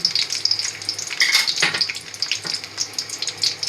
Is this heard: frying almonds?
yes